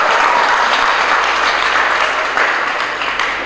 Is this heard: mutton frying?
no